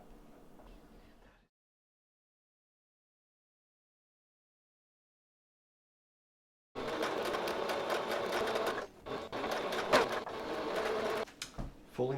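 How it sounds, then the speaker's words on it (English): A sewing machine stitches down the folded hem of a homemade vest, a loud, close, rapid mechanical whirr in bursts with short pauses, after a quiet start with faint handling and a long silent gap. "I'm going to take that off so that I can get this into the sewing machine a bit better."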